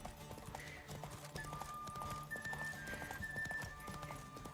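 Horse hooves clip-clopping at speed in The Witcher 3 video game, a rapid steady rhythm of hoofbeats with occasional snorts and faint tonal game sounds layered over it, no talk.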